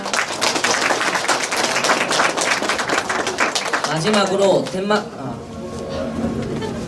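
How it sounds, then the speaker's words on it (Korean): Dense clapping from a crowd at a Korean team send-off ceremony, a steady rush of overlapping claps that thins as a voice begins speaking over it near the end. "나의 동풍팀에게 큰 박수 부탁드립니다"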